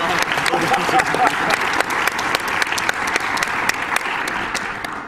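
Audience applause at a live Mega Man X speedrun race marathon event, steady dense clapping filling the whole stretch with a few sharper claps standing out.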